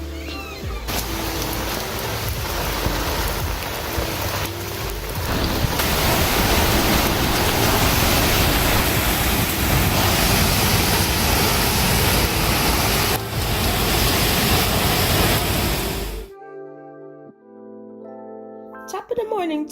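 Heavy rain storm pouring at Barry Island beach, a dense, loud, continuous roar of downpour close by that cuts off abruptly near the end, with voices briefly heard over it.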